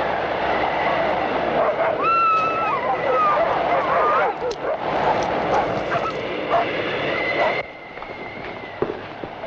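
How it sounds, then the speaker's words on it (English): Dogs bark and yip at a house, with several short barks coming through a busy mix of voices and background noise, moderately near and partly masked. "I'm going to feed the dogs."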